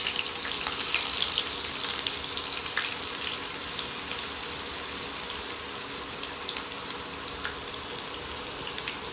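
Onions slide into hot oil with spices and fry in a steady, crackling sizzle, dense and close throughout with scattered sharp pops.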